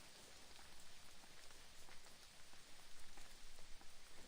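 Steady rain ambience in a video game, a dense even patter of raindrops on surfaces, moderately quiet and continuous, with no voices.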